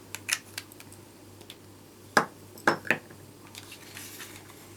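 A lid goes onto a handmade card gift box for Christmas cards and a tag, making a few sharp, close papery taps and clicks. Quiet pauses separate them.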